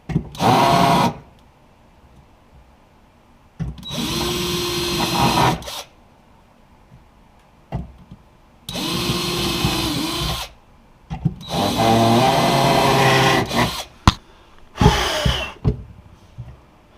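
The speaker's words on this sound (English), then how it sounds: "I'll pre-drill the back now." A power drill runs in several separate bursts, whining as it pre-drills into wood while installing a rollout drawer in a toolbox, with brief quiet gaps and small knocks between runs.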